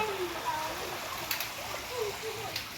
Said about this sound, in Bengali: বৃষ্টি তো সারাদিন হতে রয়েছে, কন্টিনিউ।